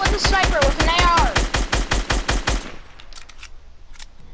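Rapid bursts of assault rifle fire in Fortnite, a fast evenly spaced string of loud sharp shots for over two seconds, then scattered fainter distant shots, with voices shouting over the first part.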